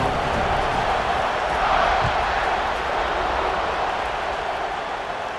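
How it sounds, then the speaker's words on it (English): A stadium crowd at kickoff in the video game EA Sports College Football 26, a continuous loud roar of massed voices swelling slightly near the middle, with no distinct speech. "They're set to kick it off, and this crowd now ready to get behind them."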